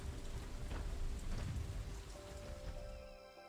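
Heavy rain in a storm pours down steadily, a dense, continuous hiss of drops on surfaces, loud and close throughout with no voices.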